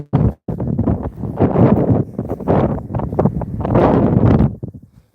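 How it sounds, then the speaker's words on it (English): Strong wind gusts buffet the microphone on a dormant Wisconsin prairie in spring, loud, rough, uneven rumbling bursts that surge and drop for several seconds with a brief break near the start. "Another blast of wind coming through."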